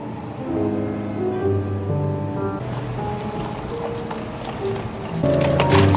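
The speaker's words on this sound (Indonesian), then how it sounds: "Tiba-tiba dia mendengar suara langkah kuda." Horse hooves clip-clop steadily at a moderate distance, blended with a continuous bed of music, with the rider arriving on a white horse at night.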